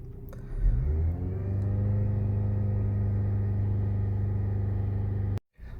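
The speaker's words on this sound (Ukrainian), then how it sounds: "Сама вона газує скидає газ, піднімає газ." Ford with a PowerShift gearbox revving by itself during clutch adaptation after a clutch replacement, the engine rising quickly and then holding a steady, close, droning idle before cutting off abruptly.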